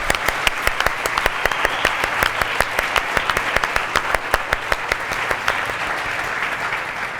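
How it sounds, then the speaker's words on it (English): An audience at a Mathematics of Cooking event applauds chef scientists, a sustained burst of dense, even clapping with a few sharp individual claps standing out, lasting several seconds before easing slightly. "let's give these chef scientists another round of applause"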